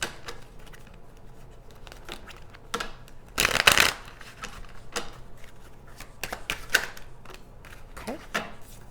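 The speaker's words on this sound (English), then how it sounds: "Let's just use some keyword cards." A deck of keyword cards being shuffled at close range, soft riffling and shuffling taps with one louder burst in the middle, scattered card handling around it and quiet room tone underneath.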